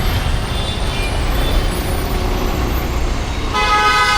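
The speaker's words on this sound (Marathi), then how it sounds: "समोरच्या रोडला तुम्ही बघू शकता खूप म्हणजे खूप ट्रॅफिक आहे." Dense Monday road traffic roars as a steady, loud rumble of engines and tyres, with a vehicle horn sounding near the end.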